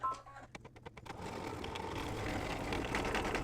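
An embroidery machine stitching a mug rug, opening with a few quick mechanical clicks before settling into a steady, close whirring hum.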